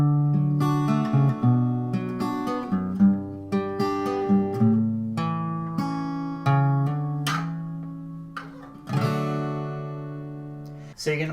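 Ringing chords on an acoustic guitar play out the ending of a song, with a few brighter strums toward the close. The guitar is heard alone, close up.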